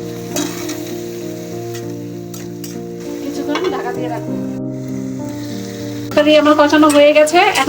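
Eggplant pieces hit a pan of cooked spiced onion masala for a small-fish curry with potatoes, giving a steady sizzle and frying hiss under sustained background music, swelling louder near the end.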